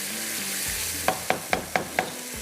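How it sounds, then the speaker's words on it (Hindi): Spoon stirring a sizzling pan of masala for spicy tikka boti kabab, five sharp scraping clinks at a steady pace over a constant low frying hiss, close and moderately loud. "थोड़ा सा मैं इसको और ज़्यादा इस तरह से चम्मच चला रही जा रही हूँ ताकि ये घुल जाए।"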